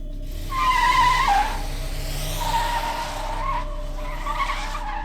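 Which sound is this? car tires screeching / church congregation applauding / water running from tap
car tires screeching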